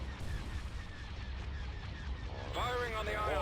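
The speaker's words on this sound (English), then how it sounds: "Firing on the ion cannons." Ion cannons firing in the Star Wars Thrawn's Revenge space battle game, a dense rumbling barrage of heavy blasts that swells louder near the end with sharp zapping sweeps.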